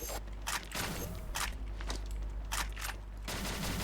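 Shotgun blasts ring out in the video game XSHOT, several sharp, booming shots fired in an irregular rhythm over a constant low game background, with no speech.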